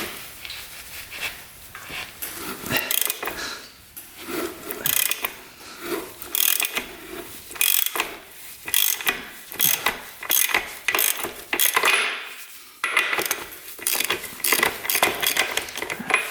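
Ratchet wrench loosening the bolts on a dirt bike so the chain can be tightened, with bursts of fast clicking pawl strokes separated by short pauses, close and fairly loud.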